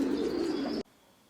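Pigeons coo in a soft, low, steady rumble at close range, then cut off abruptly into near silence.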